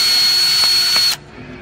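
A power auger bores through lake ice to check its thickness, a loud steady whine that drops abruptly to quiet near the end.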